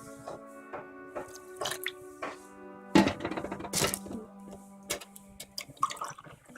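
Water poured into a cooking pot for palak moong dal, a few splashy drips and pours in a quiet kitchen, with a longer louder pour near the middle.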